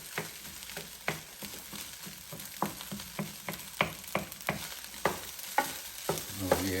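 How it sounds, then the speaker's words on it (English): Eggs being chopped and stirred into bacon fried rice in a Power XL cooker: a soft sizzle under repeated sharp scraping and tapping strokes, about two per second, close, with no talking. "I'm trying to get these eggs chopped up nice and good in there."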